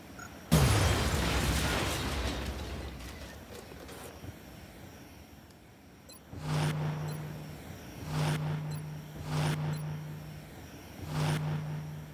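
A grenade explodes in the video game XCOM in one loud, sudden burst that rumbles and slowly dies away. Later, muffled rhythmic pulsing thumps come in.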